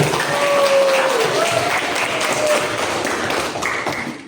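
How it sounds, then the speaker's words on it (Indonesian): A group claps together in a steady burst of applause, loud and close, with a few brief tonal squeaks mixed in. "Tepuk semangat dulu."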